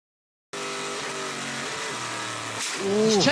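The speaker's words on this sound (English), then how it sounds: "He's changing down and braking hard." A Le Mans race car changing down and braking hard, its engine note stepping down through gears in a steady loud drone, then a sharp rise and quick revving blips near the end.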